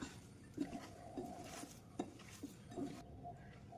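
Crushed beef and chili mixed in a bowl, quiet scraping and soft clinks of a spoon against the dish in a few irregular strokes, close and faint.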